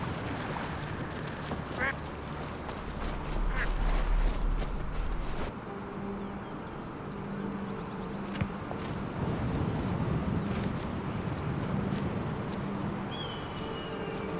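Ducks quacking in Skyrim near water, a scattering of soft calls mixed with insect-like buzzing and ambient game sound, fairly faint and distant with no talk.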